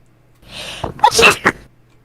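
A single sharp sneeze, close and fairly loud, with a short gasping intake before it and a brief burst after.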